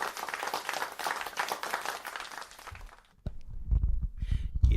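Soft, uneven clapping in a live music studio setting, a dense patter for about three seconds, then a brief pause before a few louder, thumpier hand claps close by.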